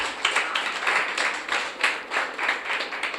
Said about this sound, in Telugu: చప్పట్లు కొట్టిన ఒకసారి.